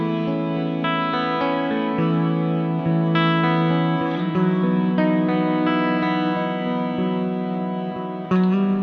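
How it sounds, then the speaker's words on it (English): Old Blood Noise Endeavors Procession reverb pedal producing a huge ambient reverb, with dense sustained chordal tones washing together continuously, loud and steady with a slight swell near the end and no talking. "share with you the Old Blood Noise Endeavor's Procession Reverb"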